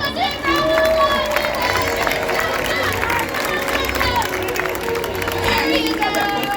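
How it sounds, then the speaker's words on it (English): A crowd at an orca encounter show claps and cheers for a volunteer, a loud mix of applause, whoops and excited voices that persists throughout. "Let's give them a big round of applause!"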